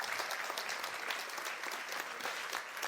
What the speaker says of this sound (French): Vous pouvez applaudir si vous avez envie d'applaudir.